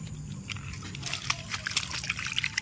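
Water is poured and sloshed while feeding African night crawler worms, giving close trickling, splashing and dripping sounds in irregular bursts, with someone talking quietly underneath.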